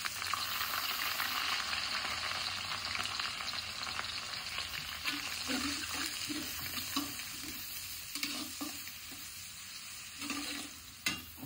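Finely chopped onion dropped into a pan of hot oil with garlic and ginger for spicy pasta, a steady quiet sizzle with stirring scrapes and soft taps of the spoon against the pan.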